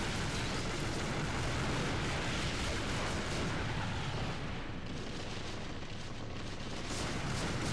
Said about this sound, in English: All that gunfire when we didn't blow up all the exploding barrels